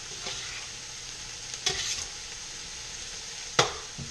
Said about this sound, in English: Stir them both up.